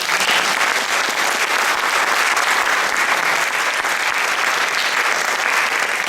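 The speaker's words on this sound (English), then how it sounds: "Give a loud applause, please." Steady, loud applause from an audience greeting a musician called to the stage at a Tasmanian concert, dense clapping holding evenly throughout.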